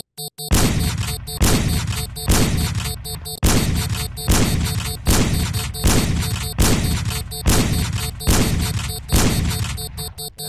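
Video game gunfire and grenade blasts arrive as a series of about nine loud, evenly spaced booms, each with a decaying tail, close and dominant with no talk over them.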